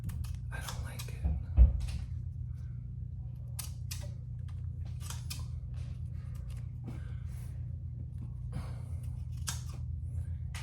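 Scissors trimming wallpaper give a few light, close snips and clicks, one slightly louder near the start, over a steady low room hum with soft whispery breathing.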